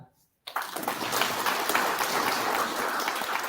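An audience at a startup summit bursts into clapping after a brief silence, sustained applause from many hands that stays loud and steady throughout.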